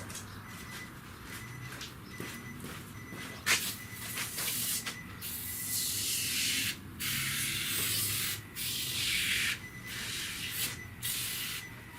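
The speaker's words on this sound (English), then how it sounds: "That's CRC battery terminal cleaner" CRC battery terminal cleaner hisses out of an aerosol can onto the battery terminals of a 2010 Nissan Altima in close, repeated bursts of varying length separated by brief pauses.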